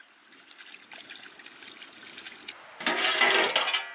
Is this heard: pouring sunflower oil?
yes